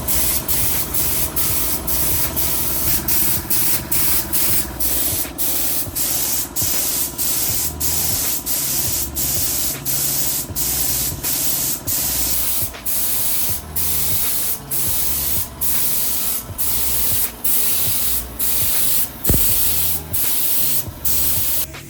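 A spray gun applies a second coat of Raptor bed liner to a car's front bumper, hissing loud and steadily with a fast pulsing rhythm and a brief dip near the end.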